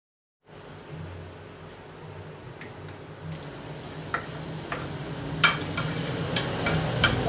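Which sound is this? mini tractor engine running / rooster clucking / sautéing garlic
sautéing garlic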